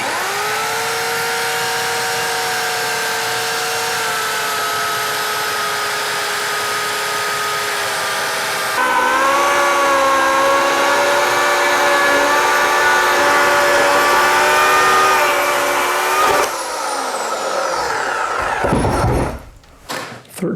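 A power tool cuts through a mulberry log from pith to pith for woodturning, its loud, steady harmonic whine shifting pitch as it bites deeper about halfway through, then winding down and stopping near the end.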